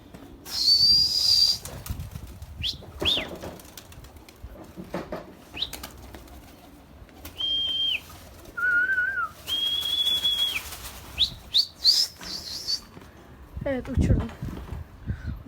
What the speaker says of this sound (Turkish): Üstüme dört tane kuş gelmiş arkadaşlar şurada uçuyorlar